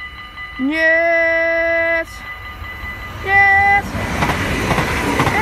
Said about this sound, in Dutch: als je iets van voren loopt, zie je de trein van rechts aankomen